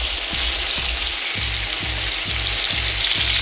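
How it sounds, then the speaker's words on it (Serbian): Meat browning in the same pan that cooked bacon, turned so it colours on all sides: a loud, dense sizzle close by, with regular low thumps from stirring or turning about twice a second. "Sada ćemo u istom tiganju propražiti meso, okretajući da porumeni sa svih strana."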